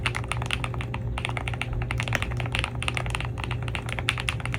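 Typing on a Kiiboom Jade 75, a premium 75% mechanical keyboard with a deeper sound profile, gives a rapid, steady stream of close, crisp keystrokes with no talking.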